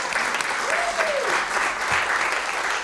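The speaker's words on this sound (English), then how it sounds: "We can clap for that, come on." Audience applause at the Cleveland Heights State of the City address, a sustained dense clapping from a crowd that holds steady for the full stretch.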